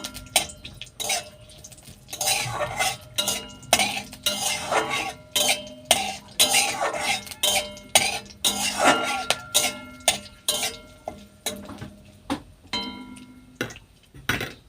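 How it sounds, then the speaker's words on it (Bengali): Bay leaves, cardamom, cinnamon and cloves frying in a pan, heard mostly as repeated rhythmic scraping and clinking of a spoon against metal over a faint sizzle, close and moderately loud. "দুটো এলাচ দু টুকরো দারুচিনি দুটো লবঙ্গ এটা ভালো করে একটু ভেজে নেবো"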